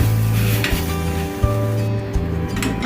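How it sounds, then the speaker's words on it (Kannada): Asafoetida and curry leaves frying in a pan, giving a steady loud sizzle with faint stirring scrapes throughout, alone with no talking. "ಸ್ವಲ್ಪ ಹಿಂಗು ಇದನ್ನು ಕರಿಬೇವು ಆಗೋ ತನಕ ಹುರ್ಕೊಳ್ಳಿ"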